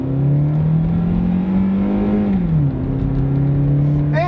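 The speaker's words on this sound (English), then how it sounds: "We'll do some harsh acceleration." Toyota Matrix compact car under harsh acceleration, a steady close engine drone that climbs in pitch, drops sharply as the gear shifts, then builds again.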